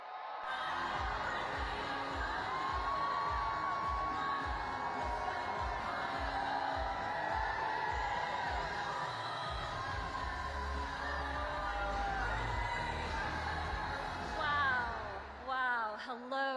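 Large crowd at a campaign rally in Raleigh, North Carolina, cheering, whooping and yelling loudly in a sustained roar with rhythmic clapping, a voice breaking through near the end.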